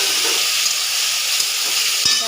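Soaked chili and turmeric powder paste sizzling in hot oil with fried garlic, a steady close hiss and crackle throughout, with a brief clink near the end.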